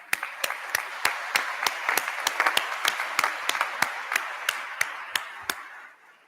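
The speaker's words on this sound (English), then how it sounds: "A round of applause for Bob." A modest crowd applauds at a college of business ribbon-cutting ceremony, with a few sharp individual claps standing out above a steady patter that fades out near the end.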